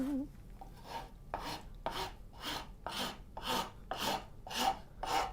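A rasp shapes wood clamped in a vise for a coping saw frame, rubbing in a steady series of about nine rough strokes, close and moderately loud.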